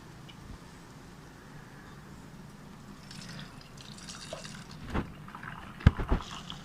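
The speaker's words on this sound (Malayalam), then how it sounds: "ഈ പനീർ ഇതിനകത്തോട്ട് ഒഴിക്കണം" Soft, quiet trickling of curdled milk being poured into a cloth strainer for homemade paneer, with a few small splashes and drips growing louder near the end.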